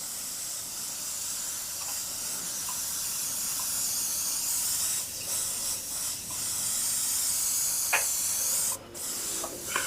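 A steady hiss of spray runs continuously, with brief pauses and a few small clicks near the end.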